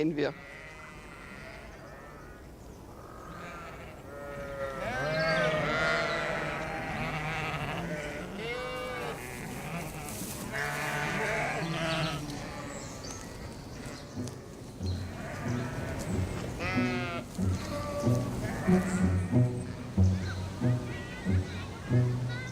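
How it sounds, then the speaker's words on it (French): Sheep bleat repeatedly in a flock grazing the lawns of Munich's Englischer Garten, several animals calling over one another at close range, with a person's voice talking intermittently underneath. "nous avons aussi un troupeau de moutons"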